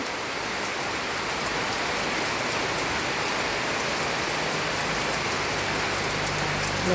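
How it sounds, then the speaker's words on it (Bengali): Heavy, unbroken rain pours down steadily on a monsoon day, a dense even roar of drops on surfaces that stays loud and constant throughout with no voices. "চরম পর্যায়ে গেছে বৃষ্টি।"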